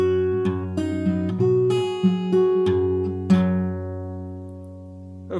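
An acoustic guitar plays a passage of a song at full speed, fingerpicked with an alternating thumb bass. A quick run of plucked notes and chords ends on a long ringing chord, close and clear, with no voices.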